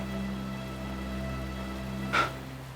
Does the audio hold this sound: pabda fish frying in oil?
no